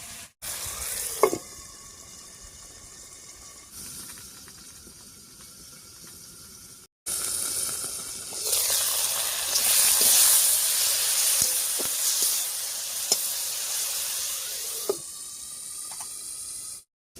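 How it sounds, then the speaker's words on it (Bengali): Tomatoes seasoned with turmeric and salt cook under a lid in a pan, giving a steady soft sizzle and hiss with a few light clicks, pausing briefly before a louder, fuller stretch of bubbling frying noise. "ঢাকা দিয়ে টমেটোটা বেশ কিছুক্ষণ রান্না করে নিয়েছি"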